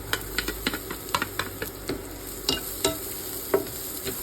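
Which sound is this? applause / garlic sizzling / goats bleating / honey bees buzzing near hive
garlic sizzling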